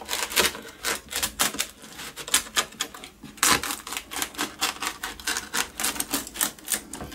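Crispy salmon flammkuchen being sliced on a serving board, a fast series of sharp crunchy cuts repeating close and clear in an uneven rhythm, no talk.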